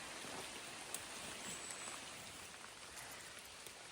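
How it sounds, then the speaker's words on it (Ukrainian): Autumn woodland rain, a constant fine patter of drops hitting leaves and ground, even and close, with a couple of sharper individual drips standing out and no talking. "дощик іде."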